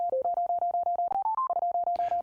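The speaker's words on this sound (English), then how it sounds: "Then I change it to a pluck sound like this." A synth pluck built from sine-wave oscillators in Bitwig's Phase 4 plays a fast, even pattern of short, bright, clipped notes, mostly on one pitch with a brief stepping run in the middle.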